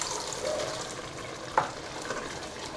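Pigeon peas (gandules) sizzle in a large cooking pot, a steady frying hiss with a brief sharp clink midway and no talking.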